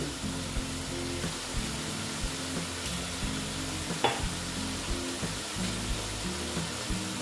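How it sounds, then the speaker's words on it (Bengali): Squash and potato curry sautéing in a pan, a steady close sizzle of frying with repeated scraping stirs throughout, no talking. "এটা আমি ভালো মতন কষিয়ে নেব।"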